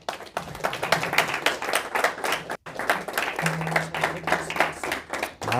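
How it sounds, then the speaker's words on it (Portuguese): Church congregation clapping during a Christmas service, a lively, uneven burst of many hands with voices mixed in, briefly breaking off midway before resuming. "Você pode aplaudir o Senhor?"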